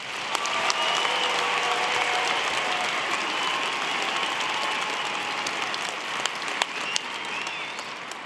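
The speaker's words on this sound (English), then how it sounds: "We now invite your applause for the geography graduates." A university convocation audience claps for geography graduates in sustained, even applause of many hands over about eight seconds, with a few sharper claps standing out and no speech.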